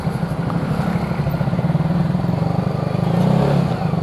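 A motorcycle engine idles and revs nearby in steady traffic, a low throbbing drone that rises briefly near the end. No voices are heard.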